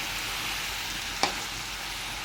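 Ridge gourd curry is stirred in a sizzling pan, a steady close frying hiss broken by one sharp clink of the spoon against the pan midway.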